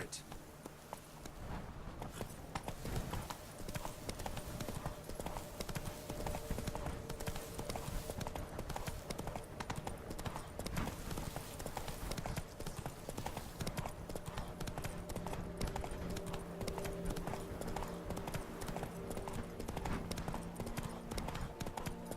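A horse gallops in The Witcher 3 with rapid, continuous hoofbeats that stay close and steady throughout, while a voice speaks over them.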